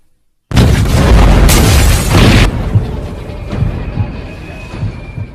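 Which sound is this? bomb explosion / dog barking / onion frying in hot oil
bomb explosion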